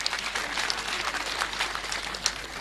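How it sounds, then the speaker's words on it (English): An audience at the coronation anniversary of the Kwar Adhola, the Adhola king, in Uganda applauds with a dense, continuous wash of many hands clapping, heard from a distance at moderate loudness. "If you have come with your hands, please clap."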